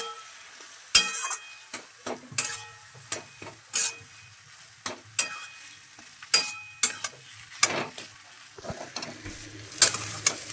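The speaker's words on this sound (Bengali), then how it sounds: "আলুর সঙ্গে টমেটো এবং বাকি মশলাটা খুব ভালোভাবে মিশিয়ে নিচ্ছি।" A potato, tomato and spice filling with chopped coriander is stirred in a pan for a sandwich, with a soft sizzle under repeated scraping and clacking spatula strokes in an irregular rhythm, close and clear.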